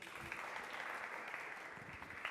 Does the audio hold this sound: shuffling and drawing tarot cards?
no